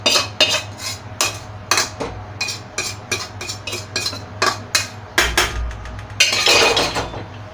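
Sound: spoon scraping roasted food from pan onto plate

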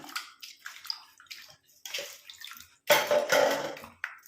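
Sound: washing Mexican mint leaves in water

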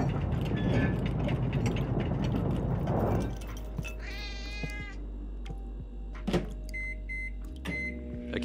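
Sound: cat meowing in a video game

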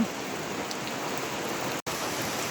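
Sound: rain

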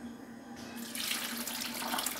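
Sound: water being poured into a blender for pineapple mango juice

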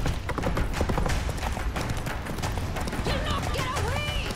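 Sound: Roach the horse galloping, from video game The Witcher 3

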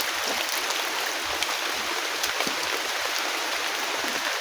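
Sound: heavy rain

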